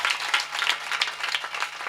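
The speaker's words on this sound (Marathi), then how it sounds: "एकदा जोरदार टाळी वाजवा त्यांच्याकडे" A kirtan audience claps in a dense, sustained round of applause, fairly close, many hands beating irregularly at an even level with no talking.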